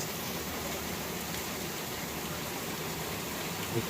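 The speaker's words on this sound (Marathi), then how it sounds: "चल बघतोय पाऊस." Rain falling outdoors, a soft continuous patter and hiss at low level throughout, with a single faint knock near the end and no talking.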